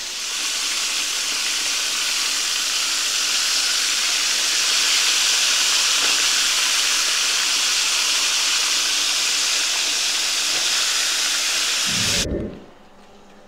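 Southern cubed steak, chicken-fried style, frying in hot oil in a pan: a loud, steady, dense sizzle runs unbroken, then cuts off abruptly near the end with a low thump.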